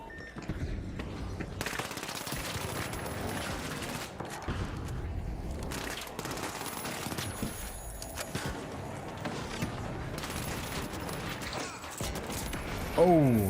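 Sustained rapid gunfire from a minigun fills a video game match, dense and continuous at close range, with brief dips in the barrage and a voice talking over it.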